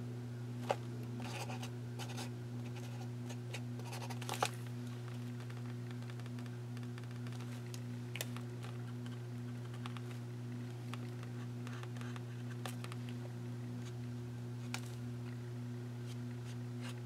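A white paint pen scribbles on scratch paper with faint, scratchy strokes and occasional small taps over a steady low electrical hum, quiet and without speech.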